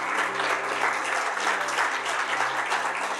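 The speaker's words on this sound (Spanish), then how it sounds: "Dale un buen aplauso al Señor." Church congregation applauding together after a service prayer, a dense steady clapping that fills the room evenly at moderate volume, with no voices standing out.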